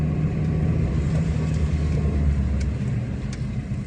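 Car driving along at moderate speed, heard from inside as a steady low engine and road rumble with a continuous, even drone and no talk.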